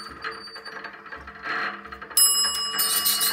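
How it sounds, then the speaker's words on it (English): A bell on an Otis Pie Plate elevator selector rings with a bright, sustained metallic tone after quiet mechanical ticking and clicking, starting suddenly and staying loud. "the bell activates when it hits the same pads or the same level pads as the light"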